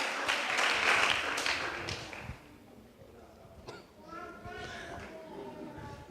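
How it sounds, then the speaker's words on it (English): Children and adults at a kiddy cricket camp clap in a burst of applause that fades, then resumes with scattered taps and thuds while a voice and children's chatter carry over it. "Come on, give him better clap. Put on your hands together."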